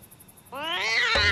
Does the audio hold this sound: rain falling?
no